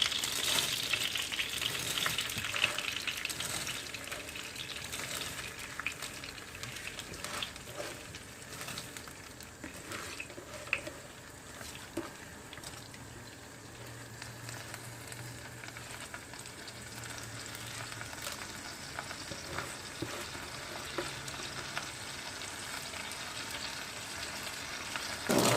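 Soaked rice sautéing in hot oil in a home kitchen: a continuous close sizzle with stirring scrapes and occasional louder crackles, steady throughout with no speech.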